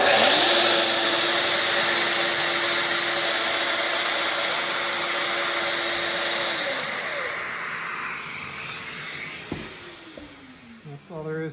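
Domino joiner cutting a mortise into wood, a steady high power-tool whine for several seconds that spins down and fades, followed by small clicks and handling sounds.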